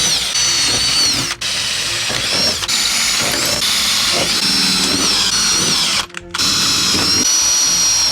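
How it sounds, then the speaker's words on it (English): A power drill runs almost nonstop as it bores rivnut holes through a campervan door, a loud, close, high-pitched whine that stops briefly twice, around the one- and six-second marks. "I'm just going round marking where I want to drill through into the door for my riv nuts"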